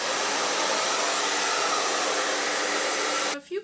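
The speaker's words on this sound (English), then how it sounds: "I diffuse because I find it gives me more volume." Hair dryer fitted with a diffuser drying curly hair, a loud steady broadband whoosh held close for over three seconds before cutting off abruptly near the end.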